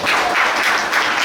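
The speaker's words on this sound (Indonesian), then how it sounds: "Tepuk tangan semuanya." Audience applause at a communal fast-breaking gathering, a brief steady patter of many hands clapping together at moderate volume with no voices over it.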